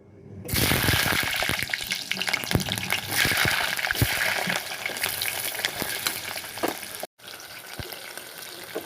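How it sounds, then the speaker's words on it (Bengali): Whole onions drop into smoking hot mustard oil in a wok and burst into a loud, dense sizzle that crackles on steadily, with a brief break near the end. "এখানে আমি গোটা পেঁয়াজটা দিয়ে দেবো। পেঁয়াজটা আমি ফ্রাই করে নেব।"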